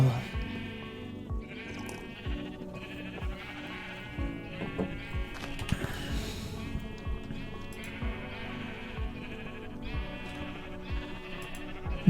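Sheep bleat in the video game Minecraft, several short calls spread across the clip over steady game music.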